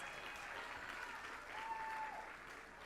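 A room gives a round of applause to an honored employee at a board meeting; moderately distant, continuous clapping from a modest audience, with a faint tonal whistle or cheer partway through.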